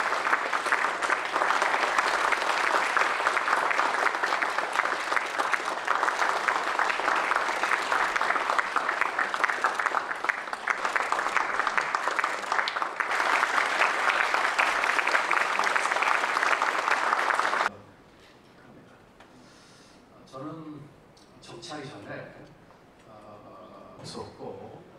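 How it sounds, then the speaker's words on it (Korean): Dense, sustained audience applause at the inauguration ceremony of the Gyeonggi Provincial Council chair. It fills the room evenly for about seventeen seconds, then stops abruptly, leaving quiet room tone and faint voices. "박수 한번 주시죠."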